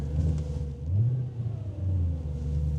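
A cheap, used Audi S4 Avant engine hums low and steady while the car reverses, a close mid-pitched drone that rises briefly as it pulls away, with no voices over it.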